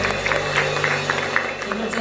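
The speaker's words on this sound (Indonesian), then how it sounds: "Kita berikan tepuk tangan sekali lagi buat Tuhan." A church congregation claps together during a morning service, a brisk, moderately loud patter of many hands over a steady low hum, with some voices underneath.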